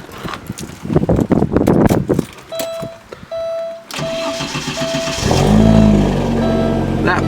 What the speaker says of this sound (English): we can pop the hood, start her up real quick